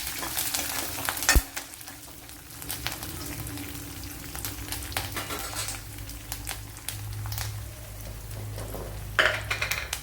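Mustard seeds and curry leaves sizzle and crackle in hot oil for a gooseberry pulissery. Steady frying runs throughout, with occasional spoon stirs and sharp pan clinks close by.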